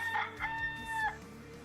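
A recorded rooster crow plays as a streaming sound alert, one clear cock-a-doodle-doo heard at moderate loudness with no talk over it.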